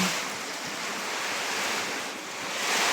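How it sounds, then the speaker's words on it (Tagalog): Dense, steady broadband roar of heavy wind and driving rain during Super Typhoon Uwan in 2025, swelling slightly toward the end, with no voices. "Malakas yung hangin, malakas yung ulan."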